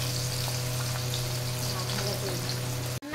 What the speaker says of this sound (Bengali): ভাজা চলছে বেটাবেটি